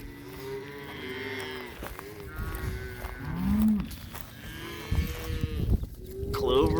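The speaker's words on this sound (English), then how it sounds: "Cows are a little bit excited" Cows on a farm low repeatedly at close range, several deep drawn-out moos overlapping one another in a steady, excited chorus with no talk.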